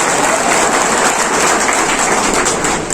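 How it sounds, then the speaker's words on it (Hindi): An audience at a Ramadan event with a government minister applauding, a loud, dense, steady wash of clapping that holds for three seconds and begins to fade at the close. "चलो तालियां बजाओ इनके लिए"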